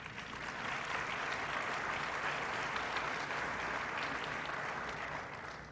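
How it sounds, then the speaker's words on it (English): Conference attendees give a full round of applause, dense and even, rising quickly, holding at a steady level for several seconds, then beginning to fade. "please just give yourselves a round of applause."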